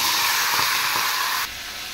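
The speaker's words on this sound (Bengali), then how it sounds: "এদিকে তেল গরম হয়ে গেছে, এবার আমি মাথাগুলো ভেজে নেব" Katla fish heads frying in hot oil, a loud steady sizzling hiss close by that drops abruptly to a quieter level near the end, with no voices.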